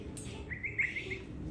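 An Amazon parrot gives a short run of bright, high chirps in a quiet indoor room, several quick notes clustered within about a second.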